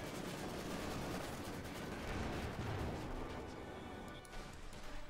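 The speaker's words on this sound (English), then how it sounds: "The South Panzer continue to fire away. We got the MG42 there joining in some fun." A Panzer tank and an MG42 machine gun fire in the WWII strategy game Company of Heroes 2. The battle noise is dense and continuous, and rapid automatic bursts blend with booming shots at low, steady volume.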